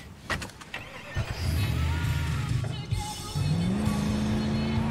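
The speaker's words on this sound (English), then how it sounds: "Recker, take the wheel!" A military vehicle engine in the video game Battlefield 4 revs up and holds a loud steady drone, with the pitch climbing as it accelerates, under game effects and brief voice sounds.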